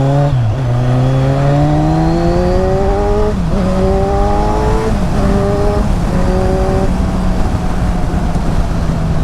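A 2015 Kawasaki Z1000 Sugomi with aftermarket twin exhaust pipes accelerates hard through several gear changes, its loud rising engine note climbing and dropping with each shift, close and sustained.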